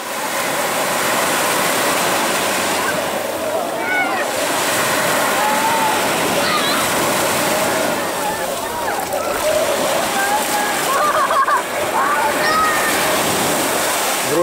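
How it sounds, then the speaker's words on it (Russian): Continuous surf rushing and breaking nearby at Shamora Bay, Vladivostok, a broad steady wash with faint splashes and some distant chirps or voices faintly in the background. "Вот такой вот прибой."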